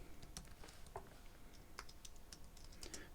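Quick, irregular keystrokes on a computer keyboard while code is entered, light clicky taps with brief pauses, close and alone with a steady low background hum.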